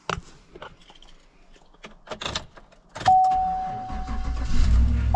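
After a few light clicks and rattles inside the cab, a truck engine cranks and catches in bitter cold, then settles into a rough, rising rumble. A steady electronic chime sounds alongside, and no one speaks.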